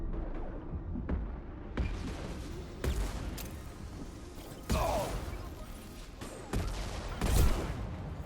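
Heat-seeking rockets firing in the Mass Effect video game, a series of sharp launches and booming impacts spaced irregularly amid ongoing combat noise.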